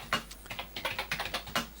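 Typing on the keyboard of a Spectravideo 728 MSX home computer: close, distinct key clicks in an uneven run of about a dozen strokes, heard alone.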